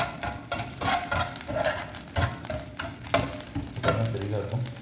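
Mustard seeds and cumin tempering in a small amount of hot oil for drumstick masoor dhal, giving crackling, popping sizzle with stirring and pan clinks, fairly close and busy.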